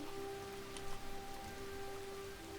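Steady rain pattering on surfaces in the farming simulator Farmer's Dynasty, a continuous soft hiss with light drop texture and a faint background hum, no voices.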